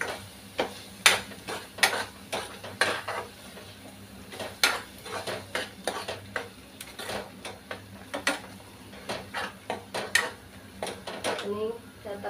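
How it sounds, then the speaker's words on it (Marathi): A coconut and onion paste is stirred into oil in a pan, with a long run of quick, irregular metallic clinks and scrapes of a spoon on the pan over a faint sizzle, and a person talking alongside. "हे खोबरं आणि कांद्याचं हे सगळं आपण मिक्स करणार आहोत व्यवस्थित"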